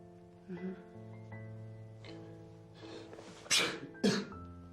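Two sharp sneezes close together near the end, loud and nearby, after a quieter stretch with a faint breathy sound.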